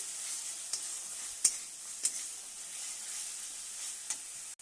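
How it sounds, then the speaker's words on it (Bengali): Spice paste with a little salt and water sizzles in a pan while being sautéed for a Bengali fish curry with yogurt, a soft steady frying hiss broken by a few light scrapes of a spoon. "একটু জল দিয়ে ভালো করে আরো মশলাটা কষিয়ে নেব।"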